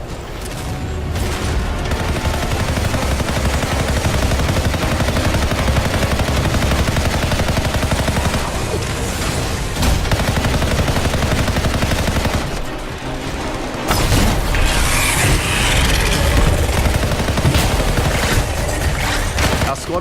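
Dense, continuous gunfire and explosive bursts from multi-mortar and flamethrower weapons in the video game Anthem, loud and unbroken across the whole stretch with booming impacts and a roaring blast near the end.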